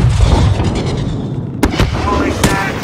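Explosions in the video game Call of Duty Modern Warfare, with loud booming blasts and sharp gunfire cracks over a rumbling background of battle, and voices shouting beneath them.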